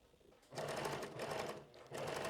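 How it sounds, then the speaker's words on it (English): A sewing machine stitches straight over a heavily trimmed seam allowance while the back of a top is sewn. After a quiet moment the motor runs in a steady, close whir, pauses briefly, then starts up again. "I cut back my seam allowance so much, I'm just sewing straight over it"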